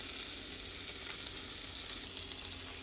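Home made hash frying in a pan until crispy, a soft, steady sizzle with faint crackles throughout, quiet and close, no talking.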